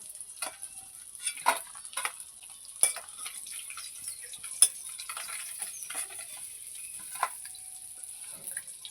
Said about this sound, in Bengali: মাছগুলো আমি ভালো করে লাল লাল করে ভেজে নিই